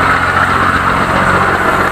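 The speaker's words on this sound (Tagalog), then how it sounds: "Lakas yung tunog ng makina." A fishing boat's engine runs loudly at a steady idle-like drone, close and unbroken for the whole short stretch, with no talk over it.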